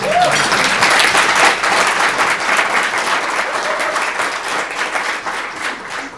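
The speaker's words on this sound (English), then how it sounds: "round of applause" A loud round of applause from an audience at a chamber of commerce workplace inclusion event, many hands clapping densely and slowly fading toward the end.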